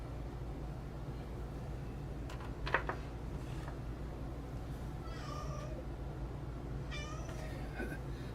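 A pet cat named Bud meows and whines in a few short, drawn-out cries over a steady low hum, fairly close, with a brief bump of handling noise early on.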